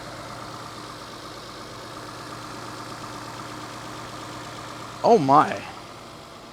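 A 303-horsepower Lexus engine idles under an open hood, a steady, smooth low hum that runs evenly throughout, with a brief exclaiming voice near the end.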